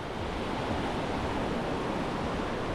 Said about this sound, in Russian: Хорошо, нет сильных волн. Они умеренные и комфортные.